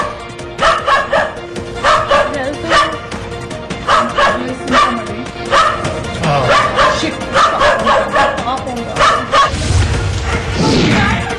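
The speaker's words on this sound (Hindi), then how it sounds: "कुत्तों की मां वहां पहुंच गई और जोर जोर से भौंककर सांप को वहां से भगा दिया" A mother dog barks loudly and repeatedly to chase away a cobra, rapid urgent barks in a steady rhythm over constant background noise.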